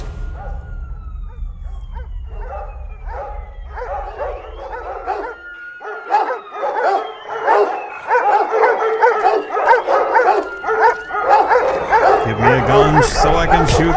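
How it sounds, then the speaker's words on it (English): Dogs in the Observer video game bark and yelp repeatedly in overlapping bursts, loud and close, over a low droning ambience, with occasional whimpers and yips growing busier toward the end. "These fucking dogs!"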